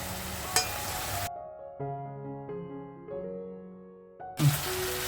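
Chopped onion, ginger and garlic hiss and sizzle in hot ghee in a pan, a steady close frying noise in short bursts at the start and end, with soft tonal music filling the quiet middle.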